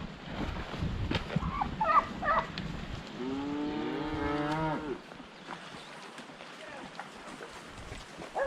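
Cattle being driven by mule riders on a long ranch drive let out a drawn-out moo amid scattered rustling and lower calls from the herd, with a mix of nearer and more distant animals.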